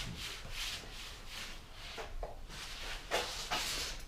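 Soft rhythmic rubbing of an applicator spreading SONAX CC36 ceramic coating crisscross over a car's paint, a steady close swishing with a few sharper strokes near the end.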